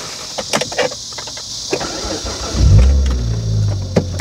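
A Hyundai Tuscani Elisa 2.7 is started after a few faint clicks and thumps, its engine catching with a loud, deep rumble that settles into a steady idle close by.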